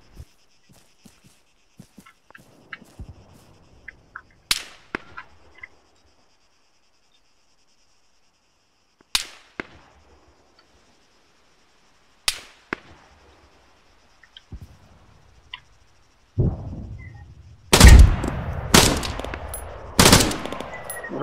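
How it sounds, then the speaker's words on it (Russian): Gunfire in Arma 3, a realistic tactical military shooter: scattered single shots and short bursts, some sharp and close, others faint and distant, separated by quiet gaps, then heavier, louder firing crowding together toward the end. "Ну, по мне стреляют уже."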